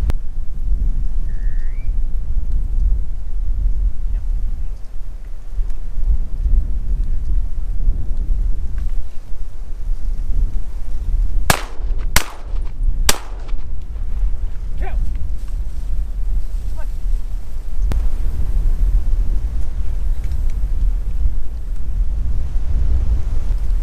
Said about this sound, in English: This wind is freaking killer